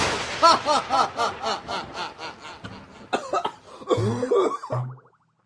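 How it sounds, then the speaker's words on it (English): A string of hoarse, rhythmic coughs and throat clearing, close and loud, ending in a few harsher hacks before going quiet. "gotta work on that cough there"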